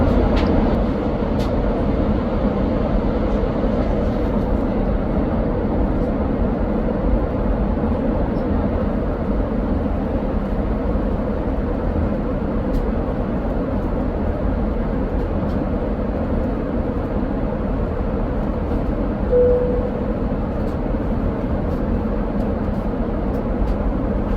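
Cabin noise on an Air France business class airliner from Paris to Seoul near cruising altitude, a loud, steady, broadband roar that continues unbroken with no talk.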